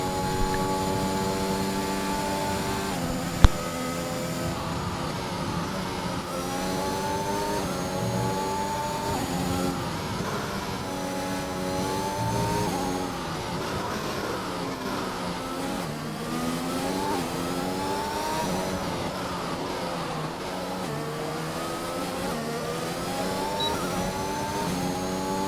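Race car engines howl steadily around a Netherlands circuit in a sim racing game, a continuous layered whine with pitch sweeping up and down through shifts and corners, and one sharp click early on.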